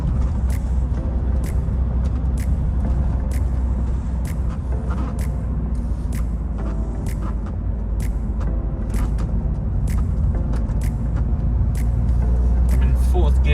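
Nissan Qashqai J10 driving and pulling through the gears, a steady low engine and road drone running throughout from inside the cabin, with someone talking over it.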